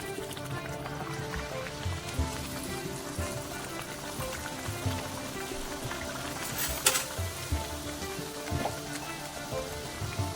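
Chicken vade, a fried dough snack, cook in oil on a flat griddle with a continuous low hiss and crackle, fairly faint and steady, with a few scattered clinks and bumps of handling and one sharp clatter midway.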